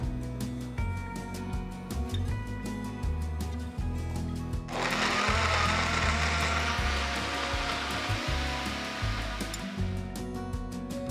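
An electric blender whirs into action partway through, blending ripe mango pieces with milk; a loud, dense, churning roar starts abruptly after a quieter humming stretch and runs steadily to the end.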